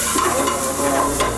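Onion sautéing in olive oil in a pan, a steady close sizzle that stays loud and constant with faint stirring scrapes, no voices.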